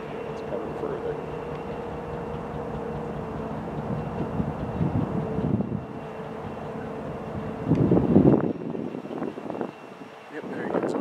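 Union Pacific locomotive switching onto another track in a rail yard, a droning diesel engine rumble with a sustained tone, swelling near the end, while people talk over it.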